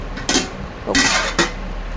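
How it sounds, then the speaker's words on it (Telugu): A metal lid is set on a cooking pot of egg tomato curry with a little water added, giving a few sharp clanks and scrapes spaced across a couple of seconds over steady background hiss. "మూత పెట్టేసుకుందాం."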